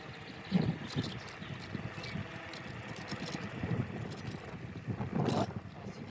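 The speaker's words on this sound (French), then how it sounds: "Il y a beaucoup de vent." Strong wind buffets the microphone of a rider on an iScooter iX7 Pro electric scooter travelling among trees, a low, steady rushing roar with louder gusts near the start and toward the end, with no talking.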